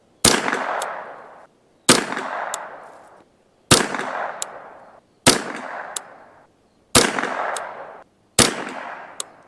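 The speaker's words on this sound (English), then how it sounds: "All right, let's see how well we can do this last mag." Six sharp rifle shots from a custom Ruger 10/22 with a Kidd barrel and MDT Field stock, evenly spaced about a second and a half apart, each a loud crack with a short decaying echo, no talking.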